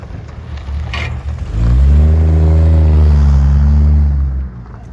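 An old car named Ethel, driven for the first time in 37 years, revs loud and close, its engine note climbing steadily before easing off, with a brief clatter near the start.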